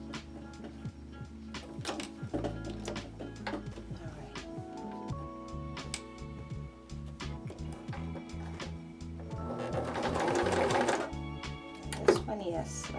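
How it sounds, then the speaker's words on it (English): A sewing machine stitches elastic onto a child's face mask in short bursts of rapid mechanical clatter, with pauses and a longer run near the end, while a person talks over it. "we're going to secure the elastic once again by sewing it like that"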